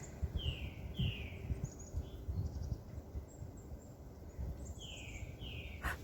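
Birds calling outdoors along a nature preserve path, several short descending chirps repeating at a moderate distance over steady wind and ambient rustle, no talking.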